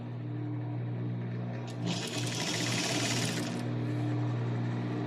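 A sewing machine backstitches blouse fabric, its motor running in a steady, close hum that swells into a louder, busier burst of stitching midway before settling back.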